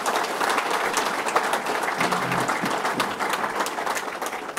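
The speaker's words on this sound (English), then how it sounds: "Let's give the chairman a round of applause." A crowd applauding for a chairman at an outdoor 2014 Bassmaster fishing tournament event, a steady, dense wash of clapping that holds at an even level throughout without fading.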